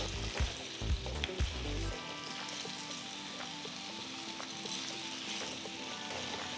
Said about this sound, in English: So fry the potatoes till they have completely cooked through. Keep the flame on high while doing this.